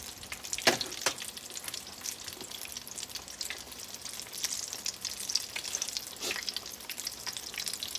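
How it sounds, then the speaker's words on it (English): Oil deep frying in a Dutch oven, a faint, steady sizzle with scattered crackles and pops, no talking. "I usually do most of my deep frying in my Dutch oven"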